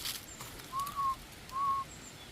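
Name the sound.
person whistling imitating a snake's whistle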